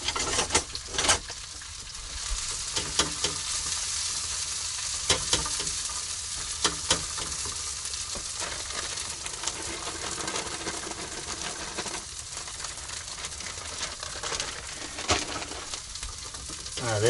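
Hash browns fry in Crisco in a pan outdoors in the mountains, a continuous crackling sizzle with scattered sharp pops and occasional stirring scrapes throughout.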